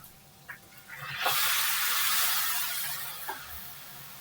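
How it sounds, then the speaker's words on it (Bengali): Fish heads drop into hot oil in a pan and burst into a loud sizzle and spatter that swells quickly, holds, then slowly fades, with a few small pops along the way. "তেলটা গরম হয়ে গেছে, এবার আমি আগে মাছের মাথাগুলোকে ভেজে নিচ্ছি।"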